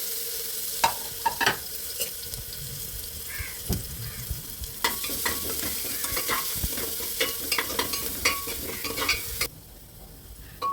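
Cumin seeds sputter in hot oil while a tomato rice base starts, giving a steady frying hiss dotted with sharp pops and occasional clinks of a stirring spoon. The sound stays close and moderately loud throughout, and no one speaks.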